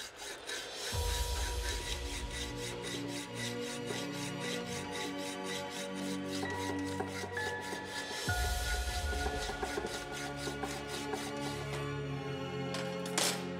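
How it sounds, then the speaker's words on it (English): A hand metal saw cuts through a steel blacksmith die clamped in a leg vise, its strokes rasping in a steady back-and-forth rhythm, close and continuous for the whole stretch with no talking. "then we'll try to cut with the metal saw horizontally to the floor"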